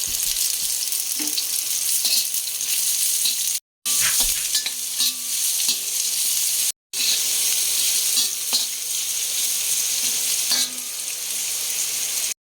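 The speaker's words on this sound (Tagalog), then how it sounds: "Igigisa lang po natin ng saglit" Aromatics sautéing briefly in oil in a pan before fried tofu goes in, a steady loud sizzle with occasional spatula scrapes, broken by two short silent cuts.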